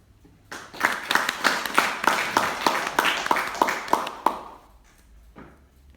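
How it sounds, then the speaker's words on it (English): Applause at an Army 15G graduation ceremony honouring the platoon sergeant and instructor: a short burst of crisp group clapping in a hall, loud for about four seconds before trailing off. "Please join me in giving a round of applause to the platoon sergeant and instructor."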